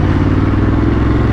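A Ducati Monster 937 Plus motorcycle being ridden, its engine close and loud with a rough, throbbing low rumble that holds steady without a clear rev change.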